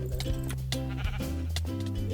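Sheep bleat repeatedly in Minecraft, several overlapping wavering baas from a farm flock, loud and close in continuous succession.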